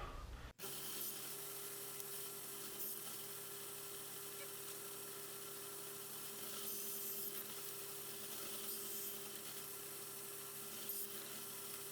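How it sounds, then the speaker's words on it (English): A table saw cuts wood on a crosscut sled, giving a steady, continuous motor whir with a constant hum and a rough, rasping edge throughout, heard alone without talk. "I'm going to do this all on the sled now, on the table saw."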